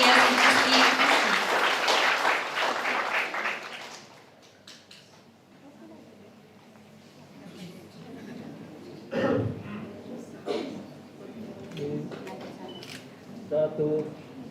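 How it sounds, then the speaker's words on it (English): Audience applause at a certificate ceremony, a burst of dense clapping for about four seconds that then dies away, leaving scattered room noise, camera clicks and a few coughs. "Please give applause to Mr."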